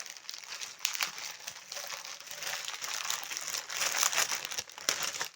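Thin plastic Amazon mailer around a boAt smart watch is torn open and handled, giving continuous crinkling and crackling for several seconds with sharper rustles throughout, close and fairly loud, with no talking.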